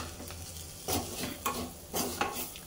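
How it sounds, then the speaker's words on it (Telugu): Broad beans and garlic sizzle in a frying pan while being stirred, with a steady frying hiss broken by a few louder scraping sweeps of the spoon. "వేసుకొని మళ్ళీ మంచిగా ఒకసారి మనం కలిపేసుకోవాలి"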